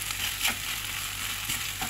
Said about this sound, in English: I'm gonna add the mixture of milk and flour and mix this so it turns into like a thick